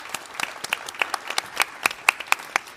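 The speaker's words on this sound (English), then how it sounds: "So a round of applause." A small panel-discussion audience claps in a loose, sparse round of applause, separate hand claps popping out clearly for under three seconds before it fades.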